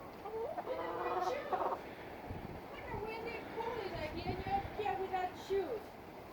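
Several chickens cluck and murmur close by in a run of soft, irregular calls, with quiet human talk mixed in.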